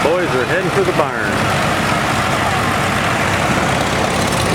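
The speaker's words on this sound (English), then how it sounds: "Mini tractor parade." Mini tractors rolling past in a parade at a Red Power Round Up farm show, a steady broad engine drone with a passing harmonic whine early on, loud and continuous with crowd voices underneath.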